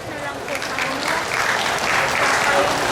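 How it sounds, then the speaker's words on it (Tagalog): Fairly thin audience applause at a dairy congress, steady scattered clapping from a moderate-sized crowd lasting a few seconds without much cheering. "Mahina yung palakpak na eh."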